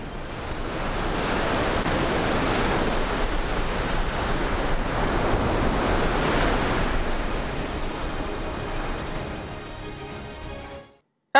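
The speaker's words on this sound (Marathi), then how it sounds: "समुद्रात मोठ्या भरतीचा इशारा देण्यात आलाय। यात marine drive, gateway of India आणि दादर समुद्र किनाऱ्यावर मोठ्या लाटा उसळलेल्या पाहायला" Big sea waves surge against the shore at Marine Drive, Mumbai, during a high-tide warning: a loud, continuous wash of surf and wind roar that fades out near the end.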